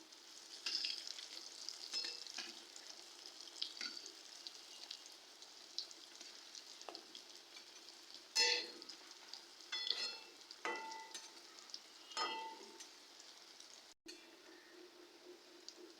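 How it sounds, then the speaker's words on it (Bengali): Elephant foot yam koftas frying in hot oil, turned partway through, give a quiet, steady sizzle broken by sharper crackling bursts, close and alone. "এবার আমার তৈরি রাখা কোপ্তাগুলো ভেজে নেব।"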